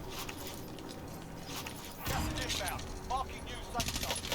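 Gunfire in Warzone crackles in short, fairly loud bursts over continuous game noise, with voices talking throughout.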